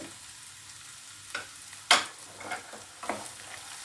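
Cashews fry in a pan for an egg do pyaza, a soft low sizzle broken by a few sharp scrapes and stirs, close by with no talking.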